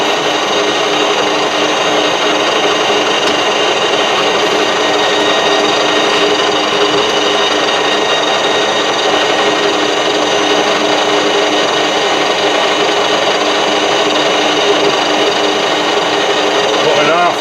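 A lathe runs continuously while cutting a taper on an ER32 collet holder, a steady loud mechanical whine and hum with no breaks over about seventeen seconds.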